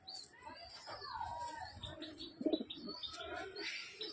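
Pigeons coo and chirp close by in a loft, with soft throaty coos and a few brief calls over faint background noise.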